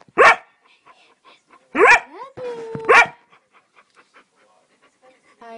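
A puppy gives three sharp barks with panting and faint whimpers in between, loud and close, then quieter breathing sounds trail off.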